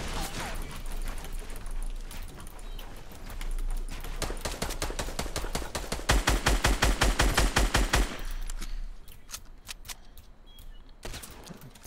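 Rapid bursts of gunfire crackle in Fortnite Battle Royale, including sniper shots, with a dense volley building in the middle and sparser sharp cracks toward the end.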